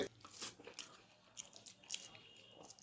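Someone eating plain boiled rice mixed with papaya, pumpkin and potato, soft close chewing and small bites with faint crunching, fairly quiet and without speech.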